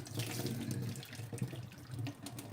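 Hot water from boiled potatoes pours through a strainer into a sink, a loud, steady splashing gush close by that keeps running with small surges and no talk.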